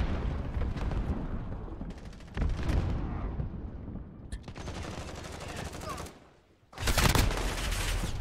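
Rapid gunfire from a 300 Blackout rifle in Modern Warfare 2019, several loud close bursts of shots separated by brief pauses, with a short near-silent gap before a final burst.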